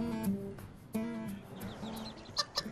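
Chickens cluck and squawk close by outdoors in a suburban yard near San Francisco in short repeated calls, with a couple of sharper higher cries near the end.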